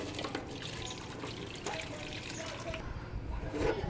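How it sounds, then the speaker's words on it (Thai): Hot water poured out of a pot during cooking of Coke-boiled chicken, a steady watery trickle and splash running throughout at moderate level. "เทน้ำออกครับ"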